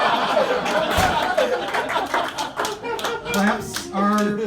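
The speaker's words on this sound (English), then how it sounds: "Claps are welcome." Audience at a stand-up comedy show clapping in a scattered, uneven patter, mixed with chuckles and light laughter throughout.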